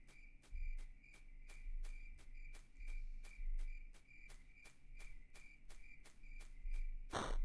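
Game crickets trill continuously in a dark horror title, their high chirping pulsing evenly alongside a run of sharp, regularly spaced clicks, over a low rumble and ending on a sudden loud burst.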